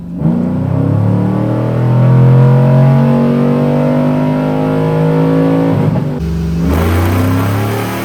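A cammed LS3 V8 in a Chevy TrailBlazer SS roars on a dyno, revving loudly with rising pitch for several seconds, then a brief drop and a shift before the engine pulls hard again, close and steady.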